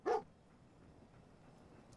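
A single short dog bark from Fallout 4, a sharp yip at the start followed by quiet game ambience.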